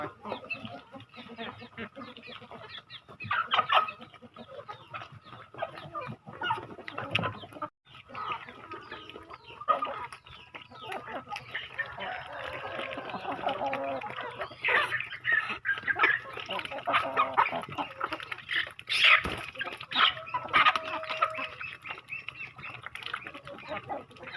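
A flock of chickens clucks and squawks continuously, with ducks among them, busy and fairly close, a few louder calls rising above the chatter.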